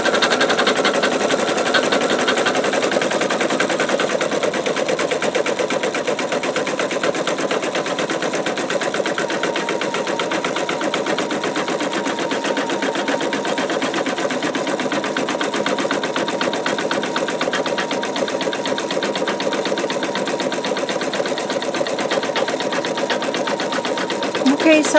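Embroidery machine stitching out a design in a magnetic hoop, a steady fast needle chatter running without pause throughout at a constant level.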